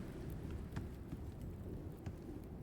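Steady rain and wind from an approaching storm in the survival game ICARUS, with soft rolling thunder swells and a few sharp cracks, continuous and fairly faint, no talking.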